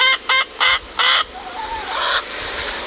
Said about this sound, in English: That's our seagull chicken.